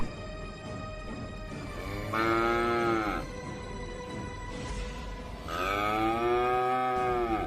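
A cow gives two long, loud, drawn-out moos, close by, with a short pause between them and no talk.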